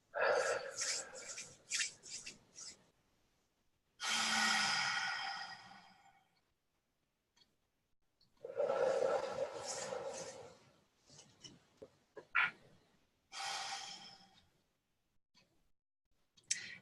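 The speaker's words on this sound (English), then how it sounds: "Take a couple of nice, deep, slow breaths off your hands." Deep, slow breathing close to the mic: about four long, airy breaths, each lasting a couple of seconds, separated by quiet pauses, with a few small clicks between them.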